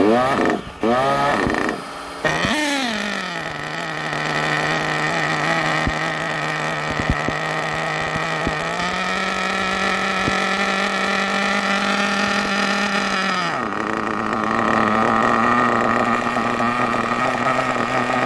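An SH PT21 .21 nitro racing engine, head shim removed, coughs through a few short cranking bursts before catching and settling into a loud, steady high-pitched buzz, then climbs in pitch for several seconds before dropping back.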